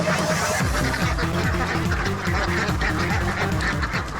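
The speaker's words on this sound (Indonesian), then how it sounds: "Rombongan bebek udah langsung gerak jalan aja tuh." A flock of ducks quacking together outdoors in the morning, a dense, loud, continuous chorus of overlapping close quacks.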